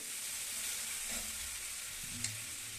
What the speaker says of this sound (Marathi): त्याच्यानंतर घातली एक हिरवी मिरची आणि हळद थोडंसं परतून घेतलं